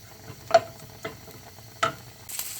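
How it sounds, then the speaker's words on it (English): Garlic and bacon fry in a hot pan, a soft sizzle broken by several sharp scraping stir strokes of a utensil at irregular intervals, close and fairly loud, with no talking. "Fry the garlic with the bacon until it's slightly crispy"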